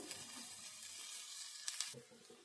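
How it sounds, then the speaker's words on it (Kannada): Washed, finely chopped peanut greens sizzle and fry in oil in a pan for a North Karnataka-style stir-fry, a steady bright crackle that runs throughout with a couple of sharper spits near the end. "ಇವಾಗ ತೊಳೆದು ಕಟ್ ಮಾಡಿಟ್ಟ ಕಡಲೆ ಪಲ್ಯನ ಹಾಕ್ತಾ ಇದ್ದೀನಿ."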